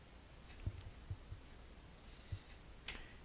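A computer mouse gives a few faint, scattered clicks over quiet room noise, with no speech.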